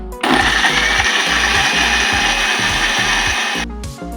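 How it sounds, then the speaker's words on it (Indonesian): A kitchen blender whirs loudly, grinding spice paste for Acehnese stir-fried tuna, a steady motor roar with rhythmic chopping pulses that cuts off near the end. "Kita blender."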